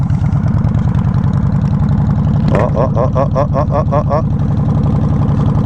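A Yamaha Warrior 1700 motorcycle idles loudly and steadily up close, a deep continuous rumble with a short rattling burst partway through, and a voice briefly exclaims.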